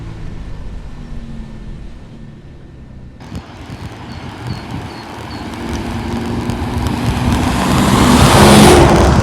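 Morgan Roadster with a 3.7-litre V6 pulls through a gear in open countryside, its engine note building steadily from a quieter cruise into a louder, rising acceleration near the end, with wind noise mixed in.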